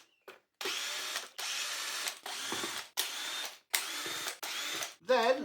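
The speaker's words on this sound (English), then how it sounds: "We can then undo all of the screws that hold the outer part or the centre cone or whatever you want to call it off of both of the machines." Cordless power driver with a T8 bit backing screws out of a Dyson V6 cordless vacuum's centre cone housing, several short whirring bursts separated by brief pauses, close and loud with no talk.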